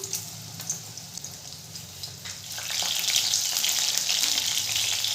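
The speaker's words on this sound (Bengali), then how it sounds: "গ্যাসের ফ্লেমটাকে মিডিয়ামে রেখে সমস্ত চিকেনগুলো আমি এভাবে ভেজে নেব।" Chicken pieces fry in oil over a medium gas flame for chili chicken, a soft crackle with occasional pops that swells into a loud, continuous sizzle partway through.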